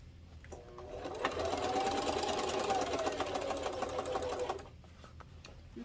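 A sewing machine stitches through waterproof canvas for a car trash can, with a steady close mechanical whir and rapid needle rhythm that starts, runs for a few seconds and stops.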